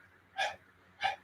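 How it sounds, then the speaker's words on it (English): Two short, breathy panting exhalations with the tongue stuck out, done as a dog-breath exercise during a bedtime yoga session, each puff sharp and close with a quiet pause between them. "we're going to do the dog breath, which is the panting breath with the tongue stuck out"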